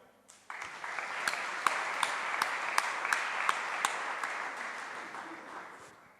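Audience applause at a software conference keynote, honouring platinum sponsors: a steady, moderately distant wash of many hands clapping that starts abruptly, holds evenly with a few sharper individual claps standing out, then slowly thins toward the end.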